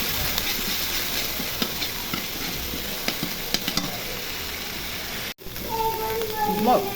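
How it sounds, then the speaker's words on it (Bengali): Ginger garlic paste frying in hot oil for a tengra fish curry makes a continuous close sizzle with scattered spatter pops; a spoon stirs near the end, and a voice talks over it. "আদা রসুন বাটা দিয়ে ভেজে নিব"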